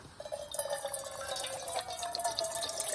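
Water poured from a bottle into a pot on a stove, a steady, close trickle and splash running continuously for a few seconds without speech.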